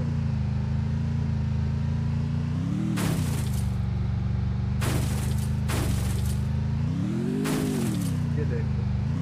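A motorbike engine in the video game Free Fire drones steadily at low pitch, swelling briefly as it revs, with sharp bursts of impacts cutting through and a player talking over it.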